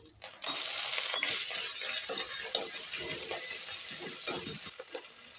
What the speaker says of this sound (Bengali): কিছুটা গোটা জিরে দিয়ে ভালো করে একটু নাড়িয়ে চাড়িয়ে নেব তারপর দিয়ে দিলাম এক চামচ মতো আদা বাটা